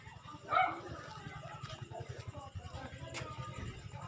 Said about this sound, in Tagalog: Ang ingay ng mga aso dito.